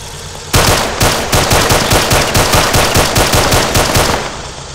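Sustained automatic gunfire in the military shooter ArmA 2, a loud, close burst of rapid rhythmic shots running about four seconds without pause, with no talk over it.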